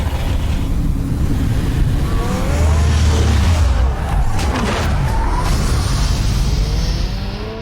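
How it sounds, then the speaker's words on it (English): The Batmobile drives through Batman: The Telltale Series video game with a continuous engine roar and tire noise, including skidding squeals, loud and unbroken throughout. "Will we switch into the Batmobile?"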